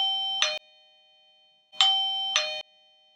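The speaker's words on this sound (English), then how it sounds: "when you press the button, you'll hear it on the doorbell itself." A Eufy Security video doorbell chime rings out clearly, a single ding-dong followed after a pause by a second two-tone chime, bright and close.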